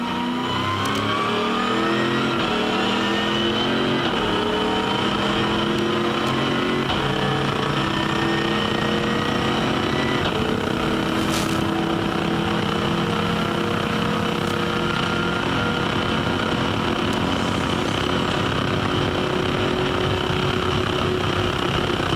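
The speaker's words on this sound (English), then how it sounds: "a glorious sound, just an absolute superb sound from this 427 7-litre Chev-based engine" A 427 7-litre Chev-based race car engine at Mount Panorama, Bathurst, during a 24-hour race, roaring continuously at high revs as it tears down the main straight, a loud sustained howl that shifts in pitch.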